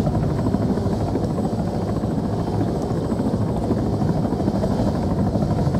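A helicopter hovers in the video game ArmA III, its rotor and engine producing a loud, steady, continuous drone that stays near and unbroken throughout.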